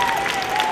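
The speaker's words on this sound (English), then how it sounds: "can we give Danielle and Tutor Doctor a big round of applause?" Audience applause after a call to honor a presenter from Tutor Doctor at a talk, a dense steady wash of clapping from many hands, held at an even level throughout with no voices over it.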